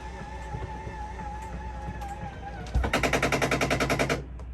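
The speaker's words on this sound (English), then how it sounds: "And you can see the unit is going out. And when it gets all the way out, it's gonna click." A steady motor hum from an RV slide-out extending runs under faint background noise, then a rapid burst of rattling mechanical clicks for over a second as it reaches full extension before the hum continues.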